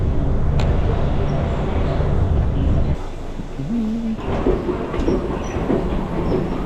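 A free airport shuttle train rumbles and rattles steadily from inside a carriage in Bulgaria, with a brief whine and a few clicks over the constant low hum.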